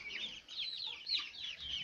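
About fifty young chicks in a brooder pen under a heat lamp keep up a dense, continuous chorus of shrill, overlapping peeps, close and steady throughout.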